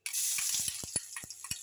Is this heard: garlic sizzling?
yes